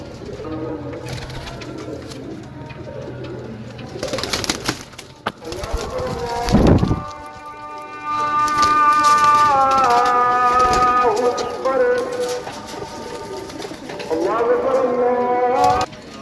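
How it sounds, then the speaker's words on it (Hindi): Pigeons coo and flutter close by as they are released in Gujrat, Pakistan, with bursts of wing flapping and scattered calls over steady background noise; a person talks briefly. "कबूतर छोड़िया हूँ मैं।"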